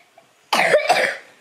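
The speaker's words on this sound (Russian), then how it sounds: "мокрый кашель опять появился" A sick child gives a wet, phlegmy cough in two quick bursts, close and fairly loud after a quiet moment.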